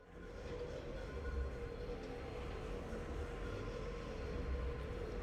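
Tram ride in Metroid Prime 4 Beyond, a steady low rumbling hum of the moving tram with a faint tonal drone, continuous and even throughout with no talking.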